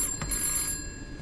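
A telephone rings in the video game This Bed We Made, a brief electronic ring with a faint background hum and no talk.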